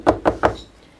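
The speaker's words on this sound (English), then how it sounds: "Knock on the door." Three quick knocks on a wooden door, evenly spaced and fairly close, followed by a brief quiet tail with no voices.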